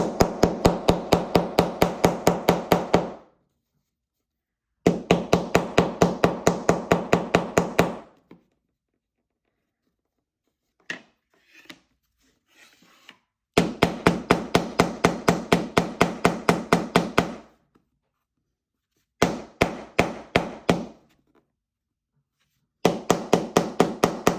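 Rapid bursts of sharp tapping blows as a screwdriver handle hammers magnets into a tray, each run lasting a few seconds with pauses between, close and loud, plus a few scattered light knocks in a quiet gap.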